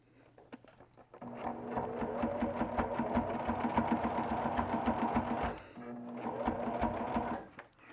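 A sewing machine stitching a fabric bowl on a wide zigzag, running in two close bursts of rapid, even mechanical whirring separated by a short pause, with quiet clicks before and after.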